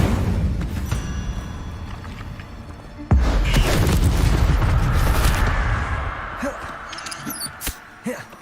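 Incendio fire spell cast in Hogwarts Legacy, a sudden loud burst with a whooshing roar that trails off over several seconds among lighter scattered game effects.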